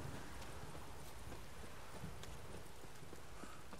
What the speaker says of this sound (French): Moi, je vais prendre mon cheval.